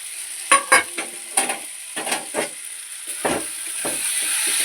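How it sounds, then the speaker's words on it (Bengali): Greens curry being stirred in a pot as lentil dumplings (bori) go in, with a steady background sizzle and a series of scraping, clattering stirring strokes at an irregular rhythm, close by and moderately loud. "এবার আমি বড়িগুলো দিয়ে দিচ্ছি"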